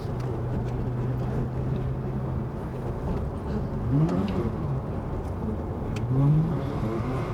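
Ferrari 360 Spider accelerating on a straight, heard as a steady engine drone from inside the car that rises in pitch twice, with a louder surge near the end.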